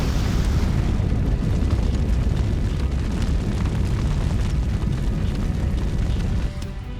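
A net set on fire in an Avatar cartoon erupts in a loud, dense, roaring fiery burst that rumbles steadily for several seconds before dropping off near the end.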